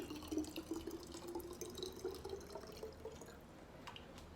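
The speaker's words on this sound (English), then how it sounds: "And I'm going to fill it up with some warm water." Warm water fills a bottle with a steady, close trickle and a rising pitched gurgle, fairly quiet and continuous with no talk over it.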